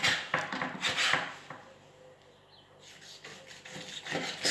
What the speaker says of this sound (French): je vais le découper en 3 parties égales en respectant le sens de la